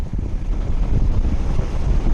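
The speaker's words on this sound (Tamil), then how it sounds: "காத்து ரொம்ப அதிகம்." Strong wind buffets a fishing boat out on rough sea, a loud continuous low roar and rumble of gusts hitting the microphone, with water and waves churning underneath and no voices.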